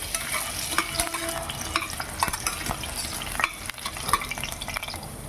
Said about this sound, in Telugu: కుక్కర్లో ఆయిల్ వేసుకుని బంగాళదుంపలు వేసుకుంటాను.